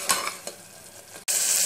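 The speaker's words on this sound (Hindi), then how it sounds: "अब हम इसमें जो प्याज लिए थे उसका पेस्ट बनाए हैं वो ऐड कर देंगे, और इसी के साथ में मैं ये अदरक लहसुन का पेस्ट भी ऐड कर दूंगी।" Onion, ginger and garlic paste frying and being stirred in hot oil in a pan, a steady close sizzle with scraping stirs and a brief break before the sizzling resumes.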